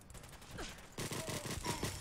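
An HK G11 rifle empties its magazine at a super mutant in Fallout 4, a fairly faint burst of rapid shots that grows denser in the second half, heard alone without talking.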